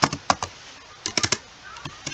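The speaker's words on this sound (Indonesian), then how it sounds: "Dengan mengetik." Someone types Linux commands on a computer keyboard, with close, crisp key clicks in short irregular bursts and brief pauses between them.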